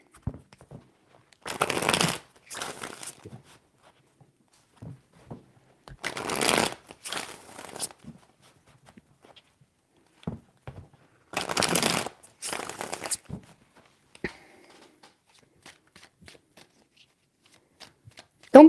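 Tarot cards are shuffled in three separate bursts of riffling, each a couple of seconds long with quiet pauses between, close and crisp, with faint handling noises afterward.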